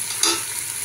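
Brief close sizzle of masoor pulao base being sautéed with turmeric in a pan, a steady frying hiss with a quick stirring scrape near the start, no voices.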